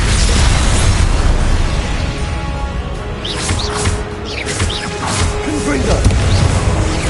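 A Confringo blasting spell explodes in Hogwarts Legacy combat, loud booming blasts and crackling bursts layered over continuous battle noise, with a voice shouting spell names briefly over the chaos.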